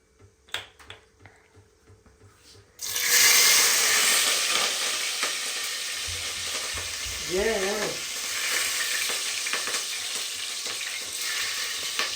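Green chillies hit a pan of frying biryani and set off a loud, sustained sizzle and crackle after a quiet start, with stirring scrapes over it and a brief, faint voice partway through.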